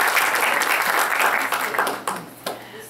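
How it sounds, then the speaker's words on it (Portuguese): An audience at a municipal chamber round-table breaks into warm applause for a spiritist theatre actor, continuous clapping at moderate level with a few sharper individual claps standing out near the end. "Uma salva de palmas para ele."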